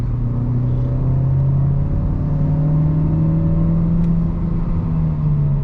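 A Dacia Duster 1.3 150HP engine revs steadily with a loud, sustained rumbling drone that rises slightly in pitch, close and continuous.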